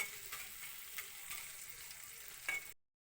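Greens being fried in a pan with steady soft sizzling and occasional stirring scrapes, close but quiet, ending abruptly in silence.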